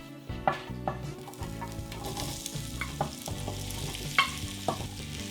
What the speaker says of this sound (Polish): wrzucam całe warzywa z mąką na rozgrzaną patelnię na tłuszcz